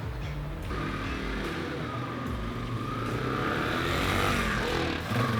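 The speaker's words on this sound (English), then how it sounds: "It does not idle well right now, but we'll fix that." A cheap used motorcycle engine idles rough on choke, a steady low mechanical drone with a faint rising note, running continuously close by with no talk.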